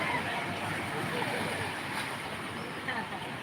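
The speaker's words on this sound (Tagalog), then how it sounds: "lalaki ng alon" Big ocean waves break and wash continuously at the beach in Barangay Calayo, Batangas, a broad steady roar with wind buffeting the microphone.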